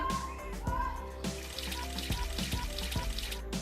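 Water pours into a cooking pot while beef yakhni pulao is being made, a splashing, trickling stream with a few clunks and knocks of the vessel, heard up close.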